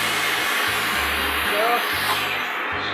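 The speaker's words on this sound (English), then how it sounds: "We don't want to iron them, we just steam it." Steady broadband hiss of a steam iron and a running vacuum while a fine wool single-breasted men's jacket is steamed, continuous and close, with brief low thumps underneath.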